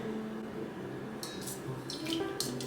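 Tap water running steadily into a sink to wash carrots, a continuous soft splashing with a few brighter clinks and rattles of dishes near the end.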